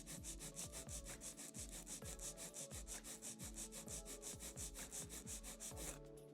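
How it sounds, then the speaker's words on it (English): A nail file rasps rapidly back and forth across a fingernail in quick, even strokes, close and steady for several seconds with no talking. "File straight out from the nail groove."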